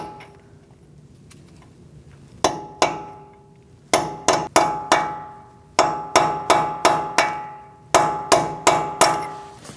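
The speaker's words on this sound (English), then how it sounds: "we're going to peen down the nut using a cold chisel or a punch" Sharp metallic hammer blows on a cold chisel peening a torqued front axle nut on a 2002-2006 Toyota Camry, struck alone in uneven bursts of two to five ringing hits, loud and close.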